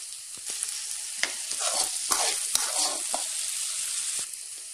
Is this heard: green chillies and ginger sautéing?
yes